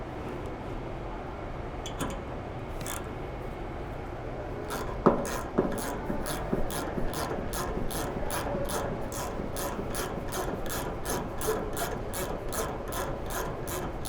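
A ratchet wrench tightens a bearing puller on a Probat coffee roaster with a few scattered clicks, then a long run of quick, even, close ratcheting clicks.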